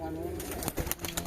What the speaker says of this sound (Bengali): আর এই হচ্ছে পুরনো কোয়ালিটির কবুতর